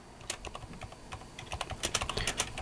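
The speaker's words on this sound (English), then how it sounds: "I will just go ahead and type" Quick, light keystrokes clatter on a computer keyboard in an irregular burst that grows busier toward the end, close and fairly quiet with no voices.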